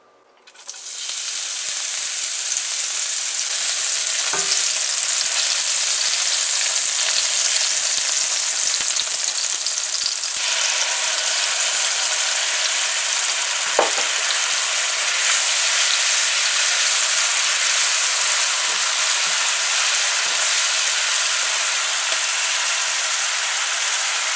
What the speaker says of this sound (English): we've added some oil to our pan to heat up here for frying our chicken